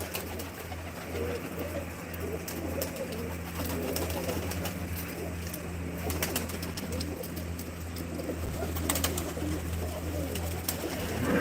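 Domestic pigeons, males and females kept in separate sections of a hobby loft, coo steadily throughout amid a low constant hum, with a few brief sharp clicks and no talking.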